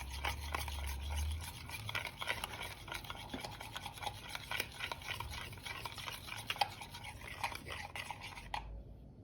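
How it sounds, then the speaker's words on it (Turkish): A spoon stirs a spice mixture of turmeric, salt and red pepper flakes for chicken wings. Quiet, steady scraping and clicking continue throughout, close but faint, then stop abruptly at the end. "Karıştıracağım"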